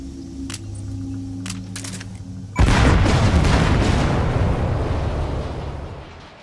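In Metal Gear Solid V, after a few quiet beeps and a low hum, a separator tank explodes in a sudden loud blast that rolls into a long, rumbling decay that fades out.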